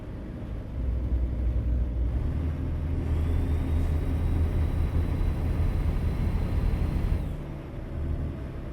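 A truck engine in American Truck Simulator drones steadily at close range, a low continuous rumble with a faint rising whine that holds for several seconds before dropping away.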